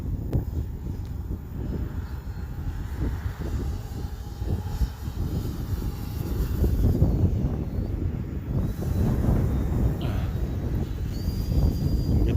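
Gusty wind buffets the microphone in a continuous low roar while an E-flite Turbo Timber RC plane flies, its faint motor drone rising and falling beneath the rumble.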